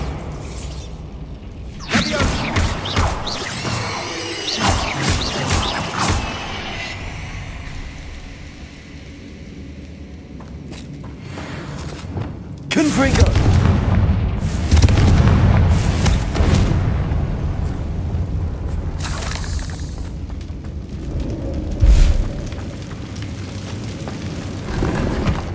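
Bombarda blasting spells set off a run of heavy booms and crashing debris in the video game Hogwarts Legacy. The impacts are spread out, with rumbling, clattering aftermath between the louder bursts.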